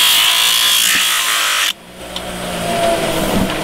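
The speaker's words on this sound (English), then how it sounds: "Grind this." A power grinder shapes a steel horseshoe during a farrier's shoe fitting, a loud sustained whir that cuts off abruptly partway through, then a quieter lingering rumble.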